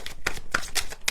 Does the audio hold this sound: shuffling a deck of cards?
yes